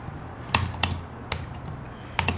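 Sparse, irregular keystrokes on a computer keyboard, several sharp clicks with pauses between, close by in a quiet room.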